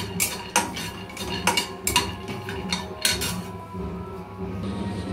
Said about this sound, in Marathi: आता आपण जे शेंगदाणे आहे ते शेंगदाणे आपण भाजून घ्यायचे आहेत।